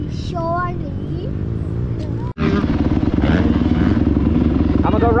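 Dirt bikes, a Husqvarna TC50 and a KTM 85, rev loudly and continuously on a motocross track, with a brief cutout midway before the engine noise resumes, overlaid by voices and crowd-like chatter.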